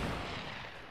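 A single gunshot in a trick shot map video game gives one loud, broad blast that holds briefly and then slowly fades.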